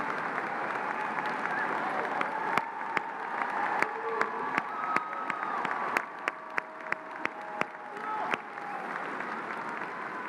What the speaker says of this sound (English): Please stand with me in a round of applause for making it through it all.